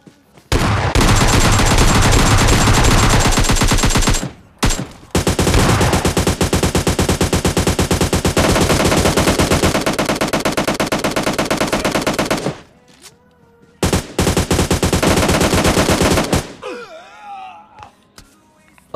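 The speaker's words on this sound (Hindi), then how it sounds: "देखो बंदा फायर देता है, तो मैं निकालता हूँ AKM" AKM rifle gunfire in the PUBG Mobile Lite video game, loud sustained automatic sprays in long bursts broken by brief pauses, ending in a few final shots and faint vocal sounds.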